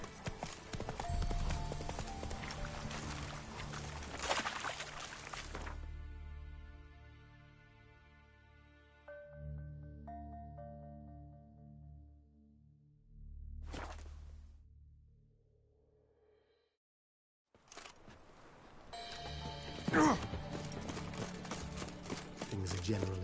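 Hoofbeats of Roach, Geralt's horse in The Witcher 3, clip-clop at a gallop through a game scene, with a snorting whinny amid music and sound effects, a voice speaking over parts of it and a short silent gap.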